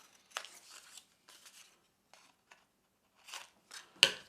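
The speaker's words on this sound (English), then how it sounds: "I'm going to cut these back a little bit." Scissors snip through paper card while a pop-up Valentine card is being made, giving several short, close, crisp cuts in separate bursts with quiet pauses between them and no talking.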